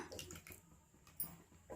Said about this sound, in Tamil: நம்ம தண்ணி வந்து குழம்புக்கு ஊற்றிக்கலாங்க